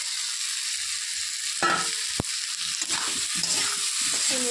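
Fried taro is stirred in a pan with spices over a constant close sizzle, with a few scraping strokes and one sharp knock on the pan, and nobody speaks.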